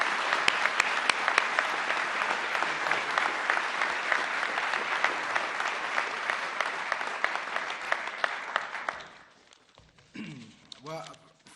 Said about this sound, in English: Let's give Jose a big round of applause